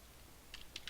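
A few quiet computer keyboard keystrokes in quick succession as a web address is typed, faint and close over a low background hiss.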